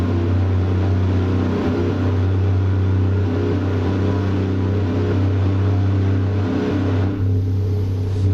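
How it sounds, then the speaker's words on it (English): A heavy truck engine from a sound mod in American Truck Simulator drones steadily and loudly throughout, with a strong low rumble and a brief dip near the end, with no talk. "Slab Jerry is like top dog on the engine sounds"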